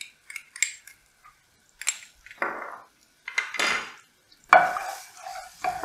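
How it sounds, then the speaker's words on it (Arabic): Garlic in oil crackles and sizzles softly in a pot, broken up by scattered clinks and scrapes of a utensil stirring against the metal, quiet and close with no talking. "هنشوحها لحد ما ريحه التومه تطلع"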